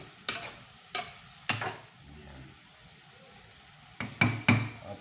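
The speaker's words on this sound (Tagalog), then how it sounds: "at haluin para mag-mixture ang ating adobong sitaw" Adobong sitaw, string beans in adobo sauce, being stirred in a pan: sharp spoon scrapes and clinks against the metal come in two bursts, three strokes then three more, over a faint sizzle.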